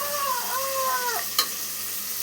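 Stuffed Andhra-style brinjals, gutti vankaya, frying in hot oil, with a continuous close sizzle, a short high warbling tone early on and one sharp click near the middle.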